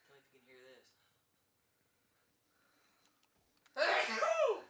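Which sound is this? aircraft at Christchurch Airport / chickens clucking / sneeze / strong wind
sneeze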